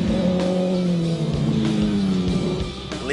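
Motorcycles speed along Marilaque Highway in Rizal, their engines loud and close with rising and falling revs and a strong harmonic whine that shifts pitch as they pass.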